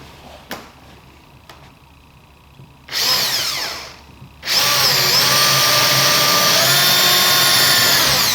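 A power drill bores a pilot hole in a door for a Wordcam cat door fitting. A few faint taps come first, then a short burst, then a loud sustained whirring run close by.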